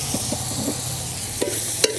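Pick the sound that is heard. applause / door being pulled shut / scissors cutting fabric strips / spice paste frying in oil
spice paste frying in oil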